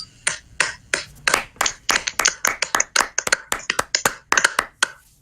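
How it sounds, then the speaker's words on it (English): Several podcast hosts clap their hands together in a close, fairly loud burst of about five seconds, with sharp claps coming in irregular, uneven rhythm and no talk over them. "Just thought we should clap for him."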